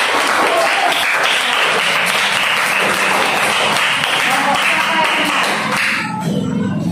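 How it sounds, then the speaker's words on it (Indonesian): A classroom of students applauds a group after a correct math answer, brisk close clapping from many hands filling the room, then cutting off near the end. "Tepuk tangan untuk kelompok tadi."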